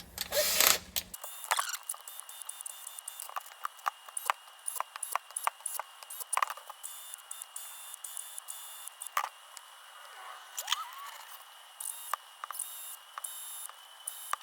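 Small screws are tightened on brass knuckles for a Beluga HB R1001 fake TRX4 RC truck, close-up bursts of faint metallic clicks and ratcheting ticks in quick irregular runs, with no talking.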